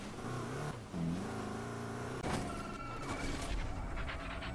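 A Land Rover Defender 110 engine in Need for Speed Payback revs and drones continuously, its pitch climbing and dipping as it accelerates, with a few sharp knocks and no one speaking.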